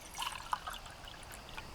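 Water trickles and pours into a camping pot at a campsite while camp coffee is being made; a short, fairly quiet splashing stream with a few brighter drips.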